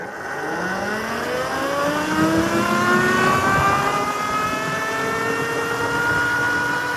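Cemoto D02 budget electric motorbike accelerating in mode 2 on a full battery, a rising electric motor whine climbing steadily in pitch over several seconds, loud and close, with road and wind noise underneath.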